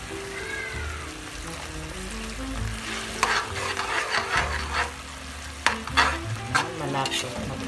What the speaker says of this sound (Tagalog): Lalagyan natin ng ating cornstarch para lumapot po siya.